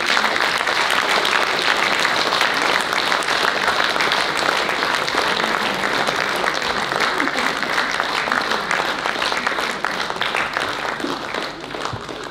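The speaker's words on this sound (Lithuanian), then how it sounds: "prašau jūsų visų audringais aplodismentais pasitikime į sceną grįžtantį kolektyvą Laumakė" Sustained, dense applause from a concert audience welcoming a traditional kankles ensemble back onto the stage, loud and continuous before tapering slightly at the end.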